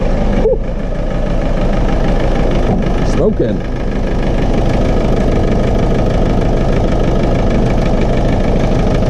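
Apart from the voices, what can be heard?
Land Rover Defender engine idling with exhaust blowing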